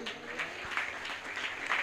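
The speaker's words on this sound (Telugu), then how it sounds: "గట్టిగా చప్పట్లు కొట్టండి" A church congregation claps loudly during a Telugu sermon: quick rhythmic bursts of hand claps, fairly near and steady, mixed with some voices.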